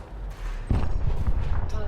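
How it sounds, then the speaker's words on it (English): Rapid gimbaled multi-cannon fire from a ship in the space combat game Elite: Dangerous, a dense run of punchy shots starting partway through and continuing loudly to the end. "Multi-cannons as usually work very well gimbaled"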